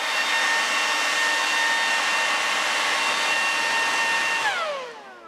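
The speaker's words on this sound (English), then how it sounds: "That blower is capable of 187 km/h wind." A powerful leaf blower rated at 187 km/h roars steadily and close at a Coleman Hyperflame Fyreknight camping stove's flame, a loud constant whine that spins down and fades at the end, with no talk.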